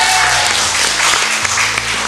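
Audience applause at a church theology quiz event: dense, loud, continuous clapping from a crowd for the full duration, with no speech over it.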